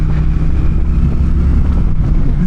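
A Honda Shadow Phantom 750 motorcycle cruises along the highway, its engine a steady low rumble mixed with wind rush, continuous and fairly loud with no talking.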